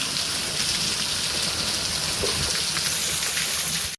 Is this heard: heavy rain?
yes